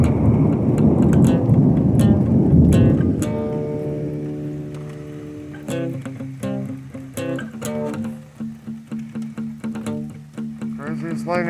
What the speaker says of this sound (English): Craziest lightning I've seen in a while.